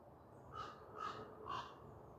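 A crow caws three times in a steady, evenly spaced series, moderately near, over a quiet outdoor background with no talking.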